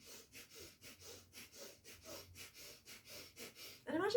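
Rapid, rhythmic forceful exhalations through the nose in the yoga breath of fire, about two puffs per second, close and steady for four seconds before a louder breath or voice cuts in at the end.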